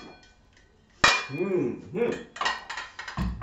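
A metal ladle clanks sharply against a pot and glass while serving hot mulled gluhwein, followed by a few softer clinks and scrapes, with a voice speaking briefly in between.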